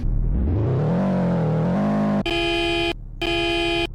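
A car engine in the Polish Car Driving video game revs loudly, its pitch climbing steadily, then snaps into two sustained, buzzy horn-like tones separated by a short break, all synthetic and close.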